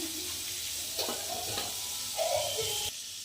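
Butter and oil sizzle steadily in a pan, with a constant broadband hiss, a few soft utensil clicks and a brief brighter crackle near the end, heard up close and alone.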